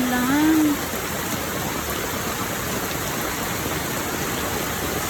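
Steady rain pours on a rainy morning, a dense, even hiss that holds unchanged throughout, with a brief voice near the start.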